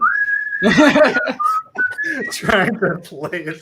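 A person whistles an old song, a clear close melody of sustained notes interrupted by bursts of speech from people talking over it.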